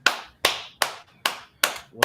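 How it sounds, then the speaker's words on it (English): Slow, deliberate hand claps from a studio audience, five crisp close claps at a steady rhythm of roughly one every 0.4 seconds, with no speech. "Let's clap it up."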